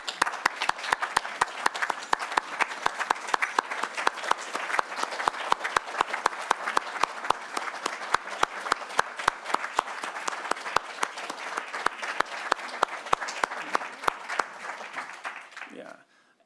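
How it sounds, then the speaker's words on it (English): A standing audience gives sustained applause for a man at a prostate cancer treatment talk, dense steady clapping filling the room for about fifteen seconds before cutting off abruptly. "I want a standing applause for this man"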